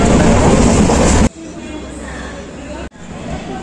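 Padatik Express rolls along at 130 km/h, a loud steady rumble of wheels and carriage noise heard from inside, briefly dropping in level as the surroundings change.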